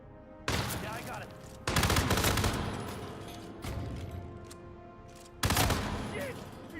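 Bursts of rapid automatic gunfire from the Hitman World of Assassination game, three loud volleys separated by brief pauses, with people talking over the shooting.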